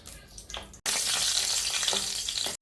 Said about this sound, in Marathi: बदाम थोडे भाजून घ्यायचे, तेलावर तळून घ्यायचे